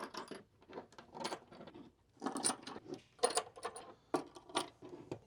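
Bolts are threaded and tightened into strut nuts while a utility cabinet is installed in a van, giving soft intermittent metallic clicks, ratcheting and scraping in uneven bursts, close and fairly quiet.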